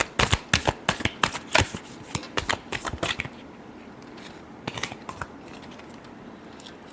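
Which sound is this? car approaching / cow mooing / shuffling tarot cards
shuffling tarot cards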